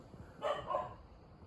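A dog gives a short, faint bark or two, somewhat distant, at a guesthouse on a Konkan trip where several dogs lie around the rooms; low background hum fills the rest.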